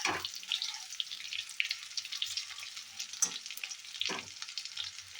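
Soya chunks frying in a pan and being turned: a steady close hiss of hot oil, punctuated by a few brief scraping stirs, with no talking.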